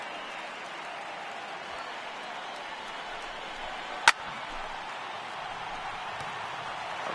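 A stadium crowd in the MLB 18 baseball video game cheers as a steady, moderately loud wash of noise through a ninth-inning strikeout, with one sharp click cutting through midway.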